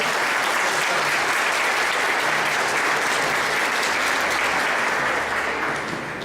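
An audience gives a welcoming speaker dense, continuous applause throughout, loud and close, tapering slightly at the end.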